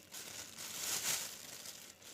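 Soft crinkling of a plastic freezer bag being filled with vegetables, close and quiet, rising briefly then settling.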